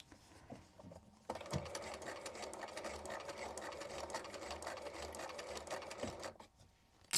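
A sewing machine bastes pieces of a Victorian skirt together, starting after a quiet moment and running as a steady, fast mechanical whir for several seconds before stopping.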